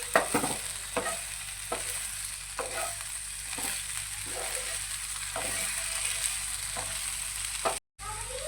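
Okra and spices roast in a hot pan, sizzling steadily while a spoon scrapes through them in regular stirring strokes about every half second, close and clear.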